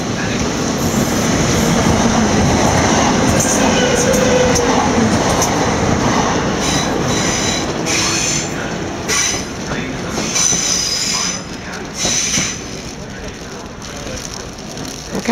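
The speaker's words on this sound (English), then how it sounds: "The approaching train is not scheduled to stop at this station" Non-stopping train passing through a platform at Clapham Junction in the evening, a loud close rumble with squealing wheels and rhythmic clatter that slowly fades, while a station announcement plays over it.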